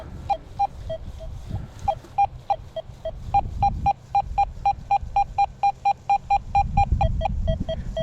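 Deus 2 metal detector in an old park giving a run of repeated short target beeps, a steady rhythmic tone broken up and uneven in places, over low rustling of handling and ground noise.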